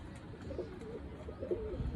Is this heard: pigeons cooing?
yes